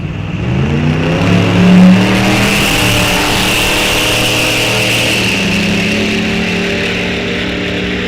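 Drag race cars, including a 1963 Chevy Nova, launching at Rock Falls Raceway: a loud, close engine roar that swells as the revs climb, then holds as a sustained, powerful drone.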